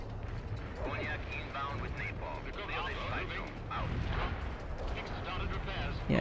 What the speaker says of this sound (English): Guess maybe we'll do a double airstrike here.